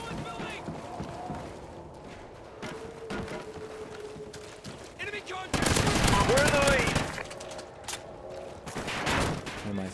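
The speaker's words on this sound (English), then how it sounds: "I'm going to be starting off with the SC210 as my weapon." SC-2010 rifle gunfire in Call of Duty Ghosts team deathmatch, bursts of rapid shots scattered across the clip with a louder stretch of firing midway, mixed with game effects and talking.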